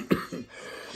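A single short cough, fairly close, followed by a second softer throat-clearing burst, then quiet room tone.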